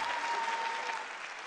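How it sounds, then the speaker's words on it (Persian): Steady, dense audience applause fills a large hall at the closing ceremony of the 2019 Fajr Film Festival (Fajr 97), even and sustained without voices on top. "ایشون رو همچنان تشویق و قدردانی میکنیم"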